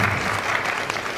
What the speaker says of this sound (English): Please give the round of applause.